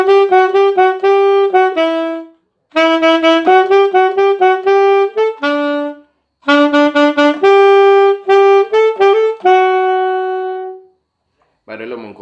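Saxophone plays the second part of a song as a close, loud solo melody in quick repeated phrases separated by short pauses, a lesson-style demonstration with no talking.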